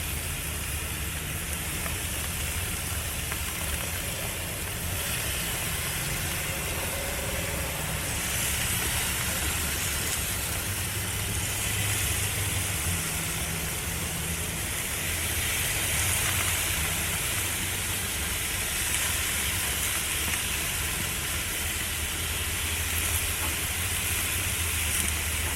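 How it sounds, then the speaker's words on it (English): Chicken and steak kabobs sizzle on a grill with a steady, broad hiss that holds for the whole stretch at moderate loudness, with no voices over it. "Nice sizzle."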